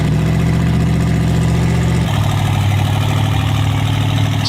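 A Hellcat Demon engine in an 800-horsepower go-kart runs loud and close, a deep continuous rumble that idles steadily, then shifts to a slightly different droning pitch partway through.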